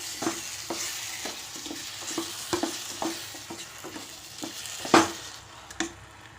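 Mashed elephant foot yam and sugar are stirred in hot ghee for a halwa, giving repeated scraping strokes of a spoon against the pan over a soft sizzle, close and steady, with one louder clatter partway through and no voices.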